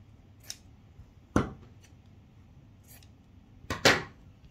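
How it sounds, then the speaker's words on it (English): Scissors snip the corners of a sewn fabric comfort toy. Two crisp, close cuts come alone in a quiet room, each a short doubled snip, with faint fabric rustles between them. "So now snip your corners"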